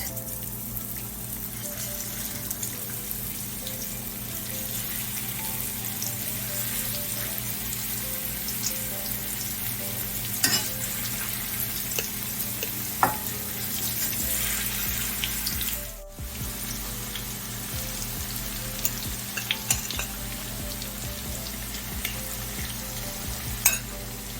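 Salmon fillet frying in a pot with thyme, a steady close sizzle and crackle running throughout with occasional clinks, no talk.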